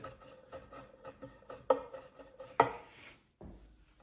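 A knife rasps against a hard surface in short scraping strokes while being given abrasive cuts during sharpening maintenance testing, with a few sharper scrapes standing out in a quiet room.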